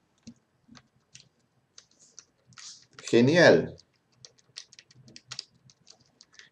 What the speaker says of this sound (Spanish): Presiono el teclado.